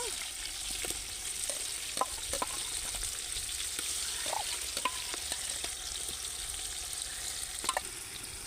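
Ginger garlic masala paste frying in a pot for dum biryani, a soft continuous sizzle broken by quiet scraping stirs and occasional light clinks, heard alone without talk.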